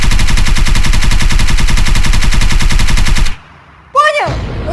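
Rapid automatic fire from a Kalashnikov rifle in Minecraft, a loud continuous burst of closely spaced shots lasting about three seconds, then a short hush before a brief sharp sound.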